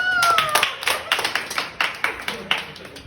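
An audience in a room gives scattered, uneven clapping for a contest winner, a run of sharp separate claps over about three seconds, with a brief whistle-like tone at the start.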